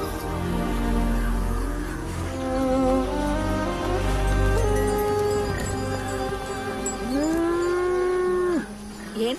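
Cattle and buffaloes lowing in a rural setting, several long, drawn-out moos overlapping one another, with a loud, rising call near the end, close and continuous over a low background hum.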